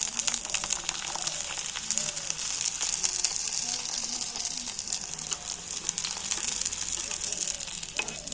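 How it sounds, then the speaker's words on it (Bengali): A rice-flour pitha fries in hot oil with a dense, continuous crackling sizzle, close and steady throughout. "আমি একটা পিঠে নিয়ে তেলের মধ্যে দিয়ে দিচ্ছি।"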